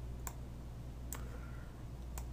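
Three sharp, isolated computer mouse clicks, spaced about a second apart, sound while working in Maya 3D graphics software over a low steady hum.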